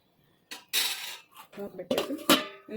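Metal clatter of a lid being set down on a pot of veg dum biryani, a few clanking knocks close by, with brief utensil clinks.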